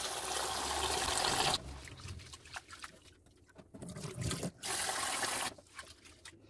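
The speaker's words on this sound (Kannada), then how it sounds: "ಫಸ್ಟು ನಾನು 3-4 ಸರ್ತಿ ಇದನ್ನು ನೀಟಾಗಿ ತೊಳ್ಕೊಂಡು ಬರ್ತೀನಿ ಫಸ್ಟು" Rice, flattened rice and fenugreek seeds are rinsed in water: a loud rush of running water pouring in, then quieter sloshing, swishing and dribbling as the grains are stirred, followed by another burst of pouring water.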